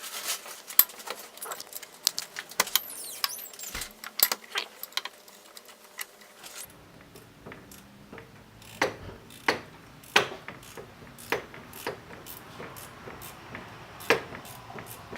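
Sharp, scattered ratchet clicks and metallic taps come from loosening the four AC compressor bolts on a 1990–2005 NA/NB Mazda Miata, close up in a quiet garage.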